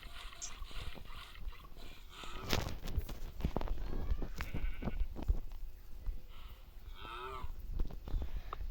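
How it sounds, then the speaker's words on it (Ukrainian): Cattle moo repeatedly, close by in a barn, with low drawn-out calls, shuffling and clattering noises in between. "Так, потрібно зараз ще коров подоїти."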